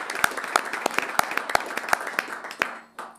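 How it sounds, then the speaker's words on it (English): Sparse, distinct handclaps at a county board of commissioners meeting, a small group clapping in a loose rhythm for about three seconds before fading out. "let's give them all a round of applause."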